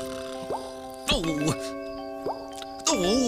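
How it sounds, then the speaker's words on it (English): Cartoon water tap dripping at night, a few separate plopping drips with rising and falling tones, spaced about a second apart, joined by musical chimes and a voiced groan. "How can anyone get to sleep with all that drip sploshing going on?"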